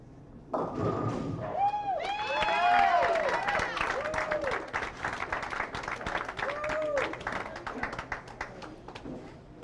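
A cheering section at a bowling alley claps and whoops, applause and crowd noise swelling and fading around bowling thuds, with talk mixed in throughout.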